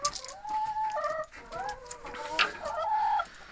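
Hens cluck and call in a chicken coop, several birds close by making overlapping, rising and falling clucks throughout.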